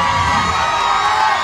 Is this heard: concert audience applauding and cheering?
yes